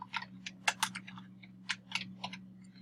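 Someone types on a computer keyboard while entering accounts in QuickBooks Online, a quick irregular run of light plastic key clicks, close and soft over a steady low electrical hum, with no talking.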